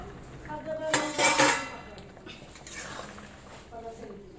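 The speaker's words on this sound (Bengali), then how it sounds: "ঢাকনাটাকে আলগা করে দেখব সিদ্ধ হয়েছে কি কচুটা" A metal lid is lifted off a pot of boiling taro, giving a clattering clink of metal near the start, followed by quieter rattles and steam.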